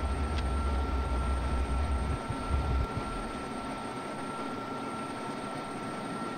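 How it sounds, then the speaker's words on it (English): An F-16 jet in the Falcon BMS flight simulator takes off without afterburner, producing a loud, steady engine roar with a constant high whine and deep rumble, which eases slightly partway through. "I'm not even using the afterburner during the takeoff, because of that very reason."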